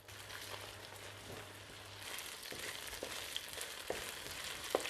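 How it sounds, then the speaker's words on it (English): Tofu pieces frying in hot oil infused with chili and ginger, a steady close sizzle and crackle with sharper pops and spits growing louder toward the end, no talking. "we are going to ram it into our delicious chiliified, gingerified hot oil."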